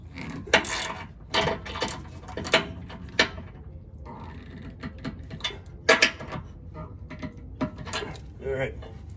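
Metal clanks and ratcheting clicks from bolts being tightened on a Flowmaster Outlaw exhaust clamp under a 2021+ Ford Bronco 2.7L, in short uneven bursts with pauses, close by.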